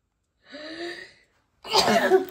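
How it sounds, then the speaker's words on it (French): A voiced, breathy intake builds up, then a short silence, followed by a sharp, noisy burst of a sneeze, close and fairly loud. "J'ai envie d'éternuer."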